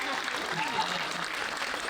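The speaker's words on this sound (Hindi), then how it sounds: "ताली बजा दो, बजा।" An audience at a Hindi comedy poetry recital claps together in a brief, moderate burst of applause.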